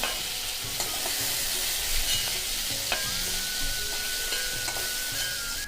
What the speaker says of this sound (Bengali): তারপর আমি আলুগুলো ভেজে নেব বন্ধুরা, একটু হালকা করে